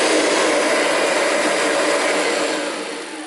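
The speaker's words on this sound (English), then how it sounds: "So now I can just hear the brushes turning." A Kirby vacuum cleaner runs on a bare floor with its brushes spinning, giving a loud, steady, close whirring roar that eases off slightly toward the end.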